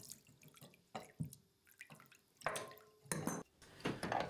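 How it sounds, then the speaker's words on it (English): Water draining from a loosened radiator lock shield valve connector nut into a container, heard as irregular drips and short splashy trickles with quiet gaps between them, close by and fairly soft. "Slowly and carefully undo the lock shield valve connector nut and drain off the water."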